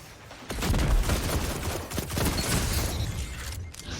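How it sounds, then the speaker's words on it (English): A grenade goes off in a multiplayer shooter, a loud close burst with rumbling low-end debris that carries on amid scattered gunfire and clatter for several seconds. "That grenade tagged him up."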